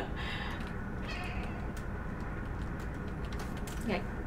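A pet cat in the room gives a short meow near the end, a brief falling cry over a steady background hum, with light keyboard clicks and a voice nearby.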